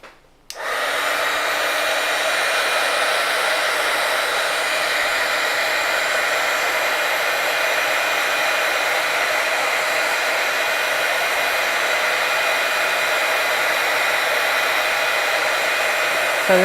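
A hair dryer clicks on and runs in a steady, loud, unbroken whoosh to dry freshly brushed acrylic paint on a pink poppy painting, holding an even roar for the whole stretch with no talk.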